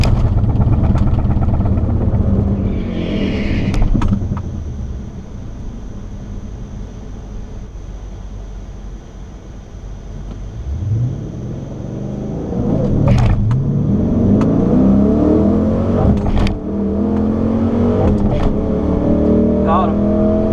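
A Jeep with a 5.7 Hemi V8 launching and accelerating down a drag strip: a loud, sustained engine roar with rising revs and gear changes, heard close throughout with brief voices underneath.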